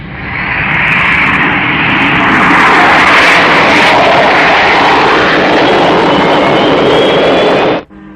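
An aircraft taking off in a 1967 Captain Scarlet puppet series: a loud, continuous engine roar that builds and holds for several seconds before cutting off abruptly near the end.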